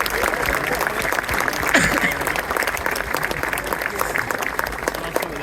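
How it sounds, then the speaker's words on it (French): An audience at a RiseNation French Chapter car event applauds steadily, dense clapping filling the space at even loudness throughout, with faint voices mixed in. "On peut les applaudir."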